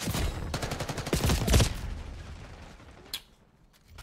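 Automatic gunfire shoots through a wall in the Call of Duty Black Ops 6 video game, with dense rapid bursts for over a second, then tapering shots and a single sharp crack before fading.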